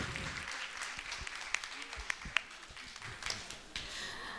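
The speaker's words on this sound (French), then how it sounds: "On peut les applaudir pour ça" Audience applause after a theatre workshop at a federation congress, soft, distant clapping from a crowd blending into a steady wash with a few sharper claps standing out, with faint voices in the room.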